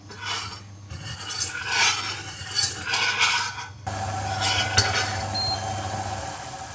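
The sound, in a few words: heating sugar, rum and water in a pot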